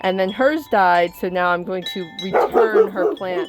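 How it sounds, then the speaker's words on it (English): A pet dog at home in a garden setting barks in short bursts mixed in with someone speaking nearby. "sorry for my barking dog"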